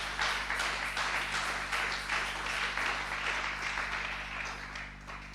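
A church congregation applauding Jesus during a service: dense, sustained clapping from many hands, fairly loud and even, fading slightly toward the end over a low background hum.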